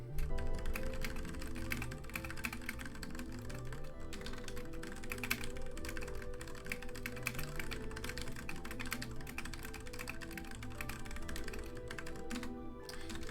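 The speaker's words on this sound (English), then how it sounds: "I'm typing." Rapid, continuous clicking of a computer keyboard being typed on, dense and close, with no pauses for the whole stretch.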